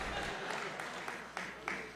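A man claps at a press conference, a few sharp, separate hand claps breaking through a room full of talking voices.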